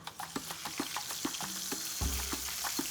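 Softshell crabs dredged in flour fry in hot oil, giving a steady close sizzle with irregular popping crackles throughout.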